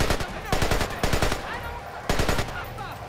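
Rapid bursts of automatic gunfire from the video game Splinter Cell Conviction, several loud volleys in quick succession with brief gaps between them.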